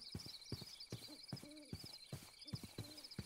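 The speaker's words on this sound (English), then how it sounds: "Oh, I can hear an owl." Low hooting calls of an owl in the video game Minecraft repeat several times at a steady pace, moderately loud over a constant high ambient tone and soft footstep-like thuds.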